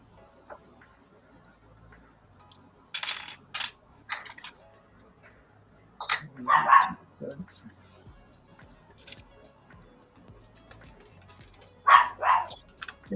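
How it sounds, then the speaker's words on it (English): A dog barks in short, sharp bursts at a distance, several clusters of yips and barks spread across the stretch with quiet gaps between them. "I don't know what dog that is, but that dog ain't having it right now."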